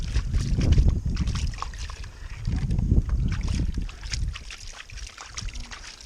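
Sloshing water and rubbing as a small piece of gold is rinsed by hand near a water pump, a steady close churning splash with gusty rumble, no talking.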